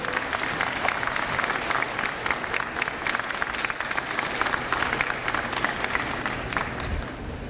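Audience at a university fall convocation applauding, a dense, steady wash of many hands clapping that fills the room for several seconds without letting up, close and loud.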